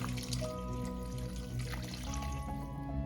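Water is poured into a simmering pot of pork sinigang sour stew with added radish, a steady gentle splashing trickle for several seconds, fairly close but quiet over a low kitchen hum.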